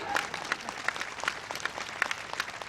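Brief burst of crowd applause at a public rally and foundation-stone ceremony in Indore, dense clapping from a large gathering with some sharper claps standing out, lasting a few seconds.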